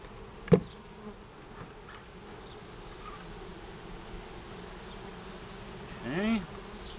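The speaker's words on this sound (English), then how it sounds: "bees building comb on the inside of the cover." Honey bees from an opened backyard hive give off a steady low buzz throughout, close and even. A brief sharp knock comes early, and a louder swell of buzzing arrives near the end.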